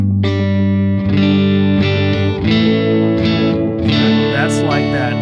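Electric guitar played through a Strymon Olivera oil can delay set to its shortest time on the long head with modulation off, a bridge-pickup surf tone. Loud sustained chords and notes repeat with short echoes in a steady sequence of phrases.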